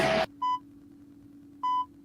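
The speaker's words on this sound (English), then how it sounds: "Hear this beep?" Two clear electronic beeps about a second apart, each brief and steady in pitch, following a short burst of noise at the start.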